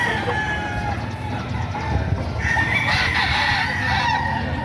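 Roosters crow repeatedly amid clucking chickens at the Padre Garcia livestock market in Batangas, a busy, steady din of fowl close by with overlapping calls.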